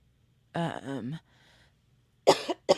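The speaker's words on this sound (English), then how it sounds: "Here comes the coughs again." A few harsh coughs ring out close by, a pair in quick succession, a pause, then two more sharp bursts.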